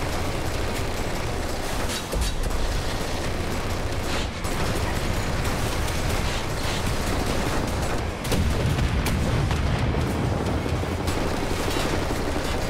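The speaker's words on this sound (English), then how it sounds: "Somebody's shooting me." Dense gunfire in Wolfenstein: The New Order fills the scene as shots come at the player. The sound is loud and continuous, with layered bursts and blasts and brief dips.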